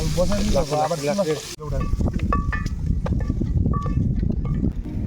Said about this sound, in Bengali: এখন আমরা কয়েকটা আলু ভেজে নিচ্ছি কড়াইতে